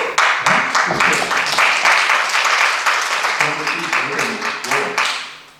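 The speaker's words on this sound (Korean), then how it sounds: "박수." Audience applause at a Korean town-hall dialogue with citizens: close, lively clapping with distinct individual claps in a loose rhythm, some murmuring voices mixed in, and the clapping thinning slightly toward the end.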